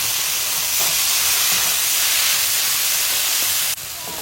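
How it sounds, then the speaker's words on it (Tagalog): Kimchi frying with garlic and onion in a hot pan gives a loud, continuous close-up hiss and sizzle with no break, and a sudden brighter burst near the end. "After kong gisayin yung kimchi ng mga ilang minuto, inilagay ko na yung kanin."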